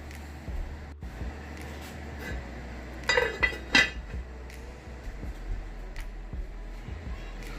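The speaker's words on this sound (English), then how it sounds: "Now I'm just going to go ahead and pop my lid back on" A pot lid set back onto a pot of simmering homemade pinto beans, giving a couple of close metallic clinks and a brief rattle around the middle, with quiet kitchen background before and after.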